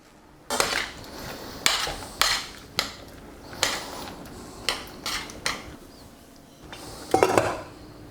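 Beans cooking in a pot with salt and chili are stirred in a country kitchen, making a series of separate knocks and scrapes of a utensil against the pot, close and fairly sharp, with brief pauses between strokes.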